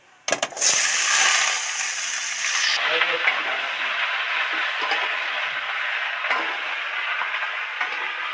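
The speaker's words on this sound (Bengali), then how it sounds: "তেল গরম হয়ে গেছে, এবার আলুর টুকরো আর শীতেলের টুকরোটা এর মধ্যে ঢেলে দেবো" Potato and pointed gourd pieces hit hot oil in a kadai with a sharp burst, then settle into a loud, steady sizzle and crackle with occasional scraping.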